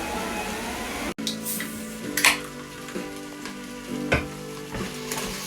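Vegetables for a slow-cooked beef stew sizzle steadily in a pan over medium heat, a continuous close frying hiss broken by a few clinks and stirring knocks, with no talking.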